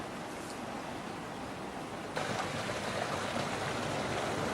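Garden waterfall built by a landscape gardener, steady broadband splashing and rushing water, moderately close, becoming slightly louder partway through.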